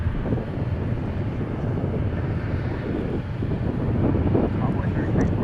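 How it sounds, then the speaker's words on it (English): Embraer E-175 jets taking off at DFW airport, a broad roaring engine rumble at moderate distance, swelling slightly toward the end, with wind buffeting on the microphone. "Okay, we got more E-175s taking off"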